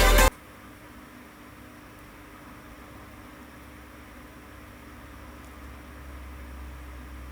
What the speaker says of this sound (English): it's just because I have my fan on because it's hot